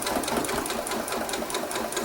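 Sewing machine running a blanket stitch along quilt binding, a fast, even mechanical whir heard close and continuous.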